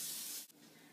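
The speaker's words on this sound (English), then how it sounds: "So I have cooking spray." Cooking spray hisses in one steady half-second burst as a 15 by 10 cake pan is greased, then cuts off into quiet room tone.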